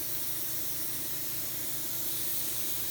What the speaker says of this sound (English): So here's my airbrush. I'm getting in there, doing that final spraying